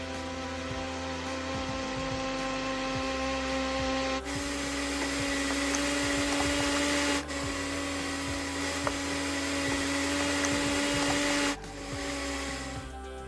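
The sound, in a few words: food processor blending jerk chicken marinade ingredients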